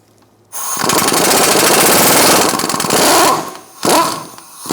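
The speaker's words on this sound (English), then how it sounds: "Using a 21mm socket, we're going to take out this bottom bolt first." An impact wrench with a 21mm socket hammers out the bottom shock absorber bolt on a 2013-2022 Buick Encore, a loud, rapid rattling burst lasting about three seconds, then a short pause and another brief burst.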